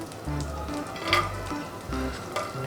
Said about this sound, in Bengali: সো বাটারটা খুব বেশি গরম হওয়ার আগে আমি হচ্ছে রসুনটা দিয়ে দিব